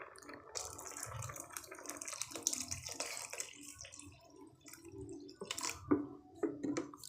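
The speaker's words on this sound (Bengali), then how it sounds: "তো এবার জল দেব কিছুটা" Water poured into a cooking pot on the stove for a sweet dish, heard as faint, intermittent splashing and trickling with soft drips and clatter, close by and quiet.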